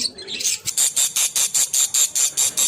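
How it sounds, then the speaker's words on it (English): Disturbed budgies give a rapid run of sharp, high squeals in a steady pulsing rhythm, about ten calls close by after a brief rustle. "And this is the noise when they make when they get disturbed, or we can say this is the sound of danger."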